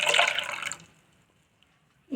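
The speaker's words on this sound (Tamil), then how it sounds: "இப்போ இன்னும் கொஞ்சம் கூட தண்ணி விட்டுக்கலாம் பயப்படாமல் தண்ணி விட்டுக்கலாம்" Water is poured into rice for payasam in a home kitchen, a bright splashing pour lasting under a second before it stops, followed by near silence and a short clatter at the end.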